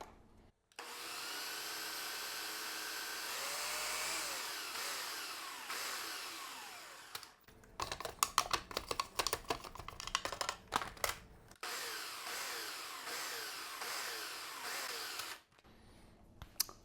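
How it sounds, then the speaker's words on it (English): A food processor blends sweet potato tart filling. It runs in a long continuous whir, then gives a choppy burst of rattling pulses, and ends with another steady run. "So we'll get to pulsing that and processing it."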